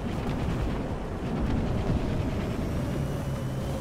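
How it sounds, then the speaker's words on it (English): Artillery fire in War Thunder makes a dense, rumbling wash of booms and low roar, steady and loud throughout with no clear gaps, more like a continuous barrage than single shots. "we'll put some artillery on him and see what happens"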